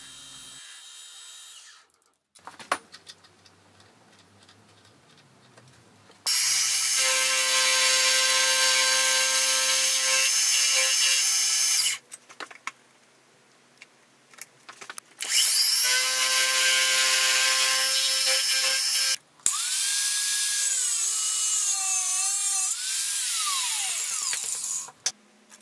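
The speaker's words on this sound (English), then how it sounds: "I'll start to machine it with a carbide end mill" A carbide end mill machines a metal face, cutting in three long bursts of loud, high whining and screeching with tonal chatter, separated by quieter pauses of motor hum, no talk over it.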